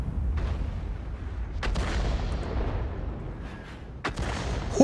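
Deep booming artillery shots in World of Tanks ring out several times, each a sharp crack with a rumbling tail over continuous low engine-like noise.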